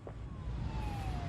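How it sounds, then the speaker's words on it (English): A police car siren wails steadily in the InFamous: Second Son video game, its rising and falling tone riding over loud continuous rumble and ambient noise. "And why is his siren going?"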